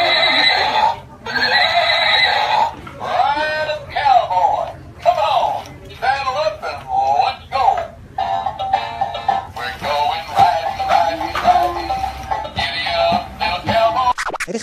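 A horse whinnies repeatedly in loud, shrill bursts, with a scratchy rhythmic background and brief pauses between calls.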